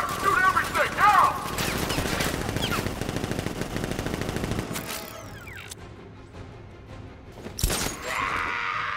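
Rapid gunfire and machine-gun bursts in the Batman: Arkham Knight video game, with dense volleys and clattering impacts over about five seconds, then a quieter stretch broken by one sharp burst.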